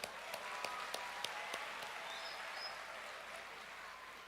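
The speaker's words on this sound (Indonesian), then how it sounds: "Tepuk tangan." Faint, scattered hand claps from a small group sound at a low level, a few sharp claps early on and then thinning out into quiet room noise.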